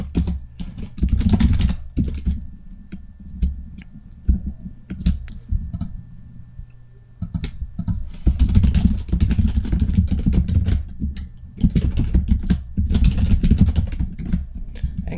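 Rapid typing of code on a computer keyboard, with dense bursts of close, clicky keystrokes broken by short pauses and no talk.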